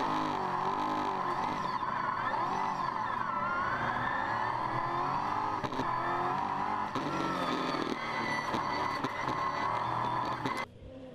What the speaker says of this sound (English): Here's Keith Kazuki now in his second car for the weekend, the 2014 Mark Focus V8.